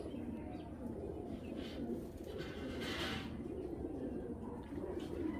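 A male racing pigeon of Olympic bloodline coos in soft low rolls close by, with quiet background noise and a few brief sounds around it.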